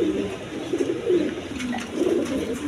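Pigeons in a loft, including a pair of shorting pigeons with a chick, coo in repeated low throaty phrases close by, one after another, with no talking over them.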